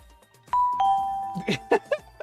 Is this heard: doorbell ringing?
yes